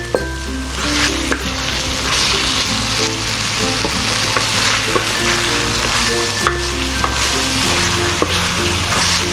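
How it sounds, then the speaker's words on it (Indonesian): Young jackfruit cooks down in a pot with bay leaves and crushed lemongrass, giving a loud, continuous bubbling sizzle with occasional stirring clinks, close and without talk. "Nah, ini semua lanjut kita masak lagi ya teman-teman sampai menyusut."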